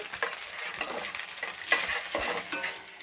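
Asafoetida powder hitting hot oil with curry leaves already in the pan for masala chickpea sundal, giving a steady close sizzle and frying crackle with light stirring scrapes throughout, no voices.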